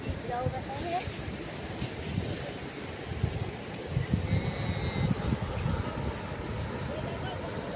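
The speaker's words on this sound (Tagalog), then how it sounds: "Ganda ng dagat." Sea waves wash onto a beach with a steady surf roar, mixed with wind buffeting the microphone and faint background voices.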